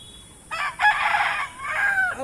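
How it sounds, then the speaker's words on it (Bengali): A rooster crows once close by, a loud strained two-part call rising and then drawn out and falling over about two seconds, with no other sound around it. "মুরগি কি কক কি বলেছে?"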